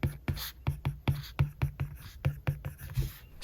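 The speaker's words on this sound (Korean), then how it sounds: "그 다음으로는 스코코를 필기해 보겠습니다." Quiet, scratchy pen strokes from an Apple Pencil on a Scoco paper-texture iPad screen film come in a steady, fairly fast rhythm of short taps and drags, close to the microphone.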